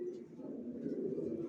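Racer pigeon squabs coo softly and low inside a loft, a faint continuous murmur with quiet voices in the background.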